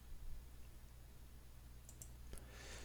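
Faint, close computer mouse clicks while working in Photoshop, a couple of crisp ticks near the end over a quiet background hum.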